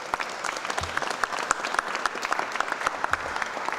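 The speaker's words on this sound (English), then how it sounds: "Let's give her a round of applause." Steady applause from a press conference audience, with dense even clapping lasting throughout at moderate volume and no voices over it.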